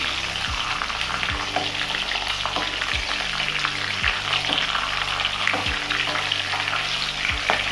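About 1.5 kg of katla fish frying in oil: a dense, even sizzle fills the whole stretch, with soft low thumps recurring every second or so as the pieces shift in the pan.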